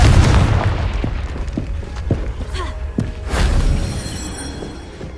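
Confringo spell blasts in Hogwarts Legacy land as a series of thudding booms and pops, a heavy burst at the start and another swell later, over rumbling game ambience.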